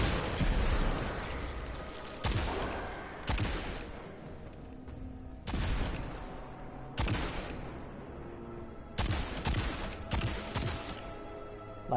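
Destiny 2 living grenade blasts detonate in separate loud bursts, about six spread over twelve seconds. Each burst cracks sharply and then decays into rumbling debris, and the quieter gaps between them are filled with ambient game noise.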